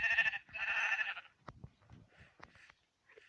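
Sheep on a livestock farm bleat twice in quick succession, close and clear, followed by a few quieter shuffles and softer calls.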